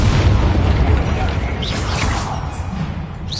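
The Confringo explosive spell cast in Hogwarts Legacy, a loud booming blast with a rushing whoosh that fades into crackling debris. A voice speaks over it.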